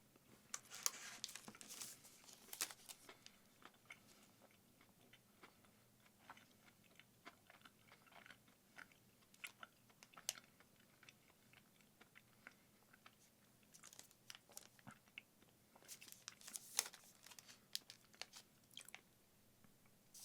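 Someone chews a MrBeast cookies and cream chocolate bar up close, with quiet intermittent crunches and mouth sounds spread across a hushed stretch.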